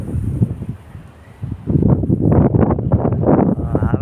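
Wind gusts buffet the microphone in an open park, rumbling in uneven bursts that grow stronger partway through, loud and close with no clear talk.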